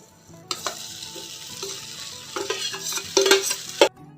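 Cooked rice is stirred into a tamarind pulihora mix in a pan after the stove is switched off. After a short quiet start, uneven bursts of scraping and soft sizzling follow, ending with a few sharp utensil knocks.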